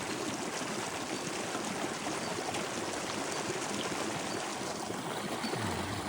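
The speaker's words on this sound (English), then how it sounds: "Nicest creek I've seen so far on this trail." A creek along a hiking trail flows in a steady, close rushing wash of water, constant and unbroken with no voices.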